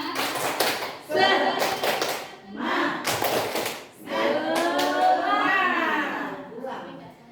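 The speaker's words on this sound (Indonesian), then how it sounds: "Satu kali lagi. Tepuk semangat." A room of adults doing a rhythmic spirit clap at a school positive-culture session: bursts of patterned clapping in three quick rounds, then the group chants together in a sustained chorus, close and loud.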